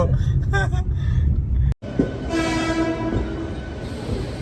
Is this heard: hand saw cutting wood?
no